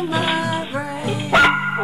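Dogs barking and yipping excitedly indoors, several quick close barks over about two seconds, fairly loud, with a short sharp noise near the end.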